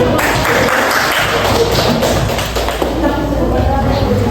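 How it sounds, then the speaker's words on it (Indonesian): Classmates in a school classroom clap together, a dense, loud patter of many hands that continues throughout, close by, with voices mixed in underneath. "Yang lain kasih tepuk tangan."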